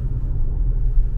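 A QM6 SUV engine pulls up a hill as a steady, loud low rumble with road noise, continuous and close, no talk.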